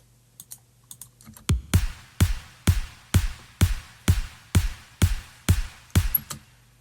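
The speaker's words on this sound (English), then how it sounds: "Then we have the top kick and the clap, which together sounds like this." A top kick and clap drum sample from a house verse, hitting together in a steady four-on-the-floor pulse, about a dozen punchy beats after a few faint ticks, loud and alone.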